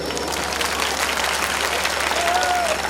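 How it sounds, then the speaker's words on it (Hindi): Applause at a jagran religious gathering in Dariyabad: steady crowd clapping with murmuring voices, a faint tonal sound rising near the end. "भाई तालियां जोरदार होनी चाहिए"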